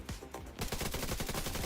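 Rapid automatic gunfire from The Division 2, a dense sustained burst of shots that starts after a few separate opening cracks, loud and unbroken with no talk over it.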